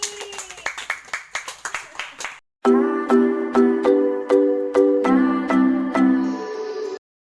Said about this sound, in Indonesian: Beri tepuk tangan untuk Nini